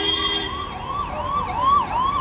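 Ambulance siren wailing in repeated rising and falling sweeps as it passes nearby on a road in India, loud and close, with no talking.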